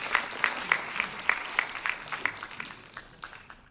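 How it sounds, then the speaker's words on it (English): Audience at a university summit on China clapping: sharp, distinct claps that begin fairly loud and gradually thin out and fade toward the end. "So let's give a round of applause to Sky."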